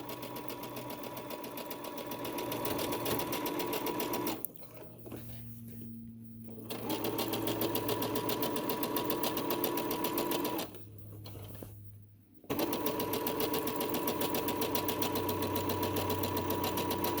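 Close sewing machine stitching the elastic casing of pajama shorts hums in long steady runs, pausing twice for a couple of seconds before resuming at the same even speed.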